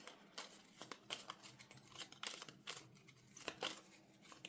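Plastic prop coins are shuffled inside a savings binder pouch, a quiet, close run of crinkly rustles and small clicks with no talking.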